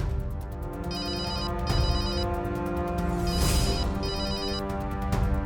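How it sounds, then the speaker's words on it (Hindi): A phone ringtone plays a repeating electronic melody in short bursts, fairly quiet, with no one speaking. "ये कौन संडे के दिन फोन कर रहा है?"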